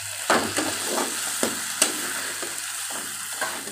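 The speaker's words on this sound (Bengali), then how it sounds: "এইভাবে সেরকমভাবে কষে নেব।" Spice paste for Bengali egg tarka fries in a pan with a steady sizzle while a spoon scrapes and stirs in several distinct strokes, close and moderately loud, with no talking.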